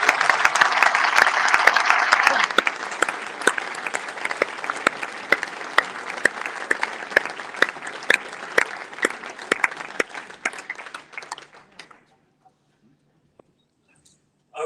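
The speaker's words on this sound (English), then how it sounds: "Is there a round of applause for Clive?" An audience at a football supporters' trust annual general meeting claps in a steady, dense round of applause that holds strong for about ten seconds, then thins out and stops, leaving near silence.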